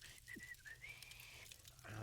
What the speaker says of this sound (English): I can't whistle.